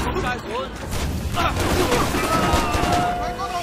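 Shotgun fire in the video game Stranglehold comes as loud, booming blasts and rolling bursts of gunfire, with a voice mixed in underneath.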